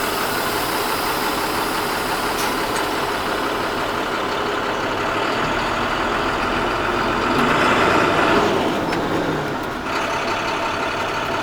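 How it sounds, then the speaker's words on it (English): A Class B truck's engine drones steadily as it creeps forward at about five miles an hour and stops hard, the mid-pitched rumble swelling briefly near the end and heard alone with no talk. "drive 5 miles an hour forward, tap the brakes as hard as we can, safely stop the truck"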